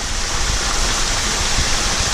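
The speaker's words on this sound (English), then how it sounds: "on them, rains down on them, and then everything just being dumped back into the koi pond" Water pours continuously over pot scrubber biofilter media and splashes back into a koi pond, a steady, dense, close rushing like a small waterfall with no talk.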